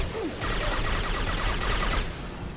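Rapid gunfire in a shooting video game rattles on as a dense, continuous burst of shots, loud and close, with no speech over it.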